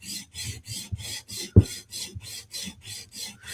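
A blade gets a final sharpening pass to take off the burr: about a dozen even, rhythmic scraping strokes, close and crisp, with one sharper knock midway.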